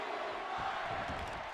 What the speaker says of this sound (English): As he's got the yes chants throughout the arena, Keith Lee rolls to the outside.